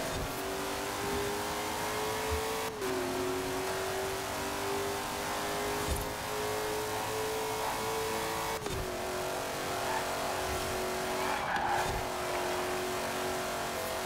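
Racing cars in Forza Horizon 4 roar continuously for the whole stretch, engines revving and shifting pitch with gear changes, loud and close, with no voices over them.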